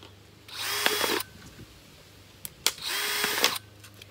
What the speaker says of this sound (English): I might drill even just one or two, if I can get it up there